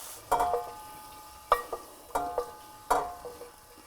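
Spiced lamb pieces for a Moroccan tagine fry in a large pan, with four separate bursts of stirring and clattering over a soft sizzle.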